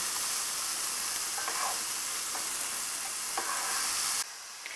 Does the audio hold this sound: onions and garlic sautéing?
yes